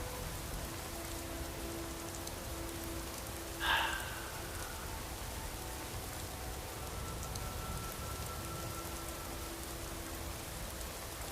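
Steady rain falling at night in Skyrim, a soft even hiss of drops throughout, with one brief brighter tick partway through, no voices.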